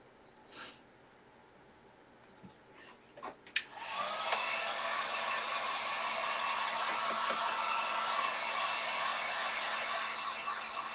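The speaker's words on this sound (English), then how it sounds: "we're gonna use the heat gun and dry this a little bit" A heat gun dries paint on a custom truck build. A few faint handling sounds and a breath come first, then the gun switches on into a steady, loud blowing whoosh with a high whine that runs to the end.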